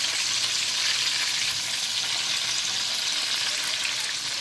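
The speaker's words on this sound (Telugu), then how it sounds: "ఇది ఇలా వేయించాలి" Tomatoes fry in hot oil for tomato pachadi, giving a steady, loud, dense sizzle that continues without a break and with no voices.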